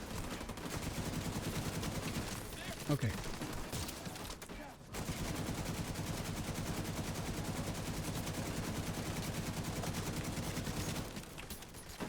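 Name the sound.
turret gunfire, from video game The Division 2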